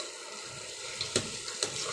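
Butter melting down into ghee simmers on a full gas flame, giving a steady, close frying hiss and bubbling, with a couple of sharp pops breaking through the sizzle.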